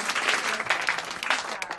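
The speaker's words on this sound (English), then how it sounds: "Let's give her a nice round of applause." A studio audience breaks into sustained applause for a performer, dense and even clapping heard from close by, with no talking over it.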